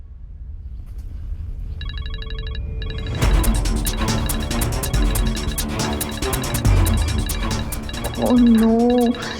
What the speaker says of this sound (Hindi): लगता है दुआ का फोन बज रहा है